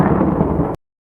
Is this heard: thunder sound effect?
yes